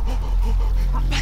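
A small dog pants in short, quick breaths at night near an ostrich, close and fairly loud over a steady low rumble, with a brief brighter burst at the end.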